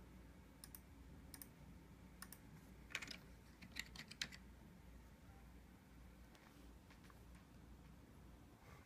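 Keys tapped on a computer keyboard to enter a PIN while unlocking a Windows 10 PC: a few sparse, faint clicks in short clusters over a low steady background hum, with no voices.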